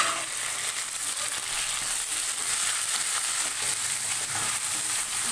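Chicken pieces fry with browned onions and torn green chili in a pan, giving a loud, continuous hissing sizzle with faint stirring scrapes and no voices.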